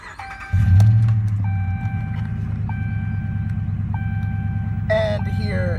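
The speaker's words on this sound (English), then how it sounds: "Bear with me for a moment as I turn the vehicle on by putting the key" A 2014 Ram 1500 SXT 4x4 pickup truck starts with a quick crank and a rev, then drops to a steady idle, while repeating dashboard warning chimes ring above the engine.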